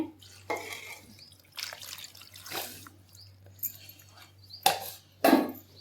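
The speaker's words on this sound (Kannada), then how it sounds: "ನೀರು ಹಾಕ್ಯಂತ ಇದೀನಿ ನೋಡ್ರಿ" Water is poured in separate splashing bursts into a brinjal masala curry in a pot, close by, with quiet gaps and a faint low hum between pours.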